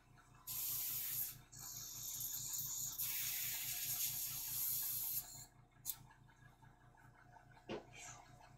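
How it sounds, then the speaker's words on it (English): An airbrush sprays rough iron metallic paint onto a model, with a close, steady hiss in two long bursts of several seconds each and a short puff afterwards, over a faint electrical hum. "Metal sucks in the airbrush, don't it?"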